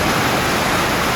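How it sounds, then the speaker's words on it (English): Heavy rain pours steadily around a lean-to shelter on the Appalachian Trail, a dense, loud, unbroken hiss with no gaps or voices. "It is absolutely pouring."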